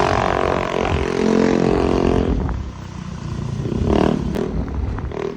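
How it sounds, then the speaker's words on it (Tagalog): A motorcycle engine runs close by, its rough, steady rumble rising and falling as the rider heads toward a 7-Eleven, with a brief surge of revving near the end; no voices are heard. "That is my motor."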